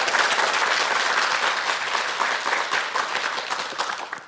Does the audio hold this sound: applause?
yes